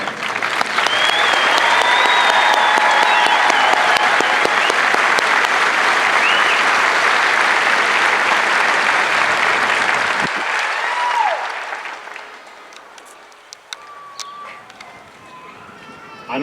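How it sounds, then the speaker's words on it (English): A large crowd applauds graduating Air Force airmen at a Basic Military Training coin ceremony, a long, loud, dense ovation lasting about eleven seconds before tapering off into scattered noise and a distant voice. "how about another round of applause for these exceptional airmen?"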